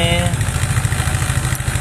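A Rusi 125 motorcycle engine idles close by with a steady, low, pulsing putter and faint background noise.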